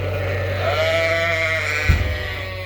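A sheep bleats in a long, wavering call, close by, with a brief thump near the end over steady low background noise.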